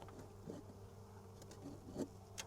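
A low, steady droning hum of a large bee swarm buzzing inside a box, faint and muffled as if enclosed, with a few soft knocks and rustles.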